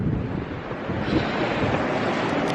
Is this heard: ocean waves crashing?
yes